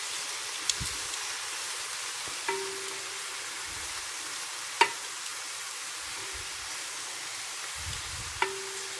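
Pieces of beef for bourguignon sizzle quietly in a frying pan, a soft steady crackle with a few sharp clicks and light stirring knocks, no talking.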